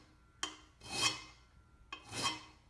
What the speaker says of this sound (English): I want to file this off so that we've got a smooth top on there